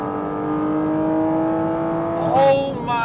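A Porsche GT4 RS Weissach engine pulls hard through the gears, its steady rising whine building close and loud before a brief shift and a fresh climb near the end.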